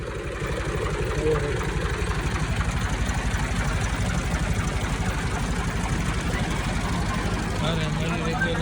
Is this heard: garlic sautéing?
no